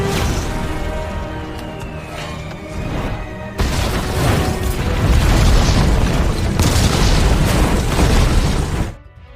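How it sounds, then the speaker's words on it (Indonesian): A bomb blast in a Wonder Woman film battle scene, with a huge booming explosion bursting in and rumbling on in a dense, loud roar of debris before cutting off, with no voices heard. "Lalu dia meledakkan dirinya bersama bom, senjata, dan gas beracun tersebut."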